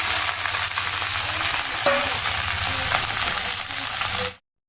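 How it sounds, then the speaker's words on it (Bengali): Okra and potato sizzle and crackle in a hot wok, a steady frying hiss with a few faint clinks and stirring sounds, close by. "এদিকে ঢ্যাঁড়সটা কষা চলছে"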